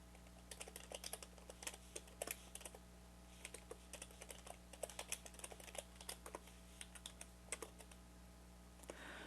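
Computer keyboard typing while Linux useradd commands are entered: a steady run of quick, fairly close clicks and key taps with irregular bursts over a low electrical hum.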